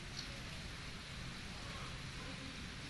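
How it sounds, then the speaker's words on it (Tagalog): Heavy rain pours down in a steady, dense hiss, a sudden downpour during typhoon weather, faint and unbroken throughout. "nakakaranas kami ng biglaang pagbuhos ng ulan"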